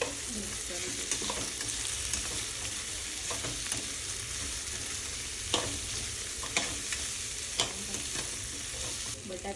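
Coriander-cumin powder being stirred into vegetables frying in a pan, a steady sizzle running throughout with occasional scraping stirs of the spoon, no voices.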